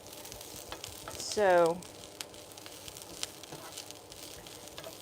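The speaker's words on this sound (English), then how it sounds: "stir that around to coat the broccoli with the oil" Broccoli frying in oil in a pan while being stirred, a soft steady sizzle under a brief spoken word, with a few light clicks of a utensil.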